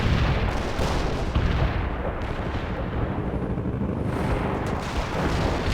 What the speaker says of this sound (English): Commencing the barrage. Artillery strike on the way.